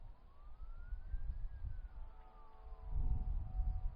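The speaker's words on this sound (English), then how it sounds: "I believe that's a fire truck and a police car." A fire truck and a police car sound their sirens in the distance. One faint wailing tone sweeps up and then down, and more siren tones overlap it toward the end over a low rumble of traffic.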